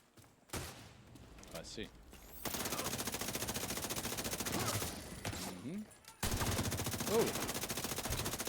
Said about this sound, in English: Yo, what's behind me shooting me?